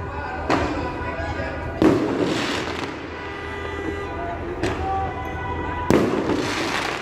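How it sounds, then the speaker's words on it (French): Fireworks mortars set off during a wedding procession in Saint-Denis, several loud sharp bangs spaced a second or more apart, each trailing a crackling burst, with voices in the background. "ces personnes sortent des feux d'artifice"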